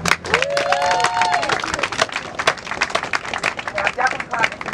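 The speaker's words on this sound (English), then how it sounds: "I'm definitely clapping for you guys and not myself," Audience clapping at a community political event, uneven bursts of many hands with distinct sharp claps, while a voice speaks over it through much of the stretch.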